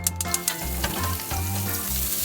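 Lunch frying in a pan inside a campervan, a steady close sizzle with a few light clinks of stirring near the start, no voices.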